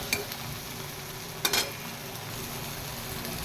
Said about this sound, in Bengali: টমেটোটা এবার আমার ভাজা হয়ে এসছে